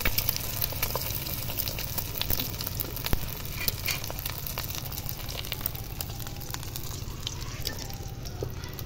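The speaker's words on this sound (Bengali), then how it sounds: "আর একটা ডিম পোচ করে নেব, কড়াতে দিয়ে দিচ্ছি।" An egg frying in a kadai for a poached egg gives a steady close sizzle that runs unbroken throughout, with faint crackles and a few small pops rising above it.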